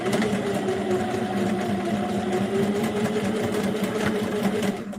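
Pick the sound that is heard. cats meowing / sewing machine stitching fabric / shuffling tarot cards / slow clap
sewing machine stitching fabric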